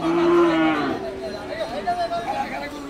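A cow lows loudly at the Hazratpur cattle market, one drawn-out moo at the start, followed by crowd chatter and people talking in the background.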